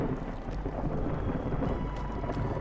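During the storm phase of the city-building game Against the Storm, a thunderstorm rumbles continuously, with heavy rain and deep low thunder forming a loud, unbroken wash and no voices.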